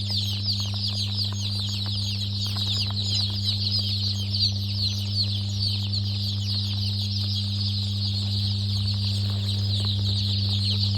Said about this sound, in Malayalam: ഇതെല്ലാം നാടൻ കോഴിക്കുഞ്ഞുങ്ങളാണ്.